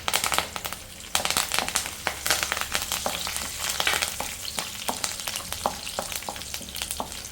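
Lentils (dals), mustard seeds and curry leaves crackle and spatter in hot oil as a tempering for spicy mint chutney, a dense, close, continuous sizzle studded with sharp popping bursts throughout, with no voices.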